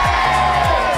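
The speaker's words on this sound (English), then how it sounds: "a mighty cheer for the queen" A Medieval Times dinner-tournament crowd gives a mighty cheer for the queen, a loud, dense roar of many voices with whoops and shouts, sustained throughout.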